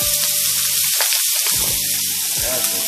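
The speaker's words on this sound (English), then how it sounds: "We're gonna go in there some bacon." Bacon sizzling in a hot pan for a breakfast bagel, a loud crackling hiss with popping fat that briefly drops out in the middle before returning, with a faint scrape near the end.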